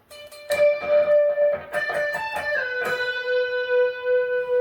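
An electric guitar riff with reverb: picked notes, slides and hammer-ons ringing out, ending on a long sustained note with a lingering reverberant tail.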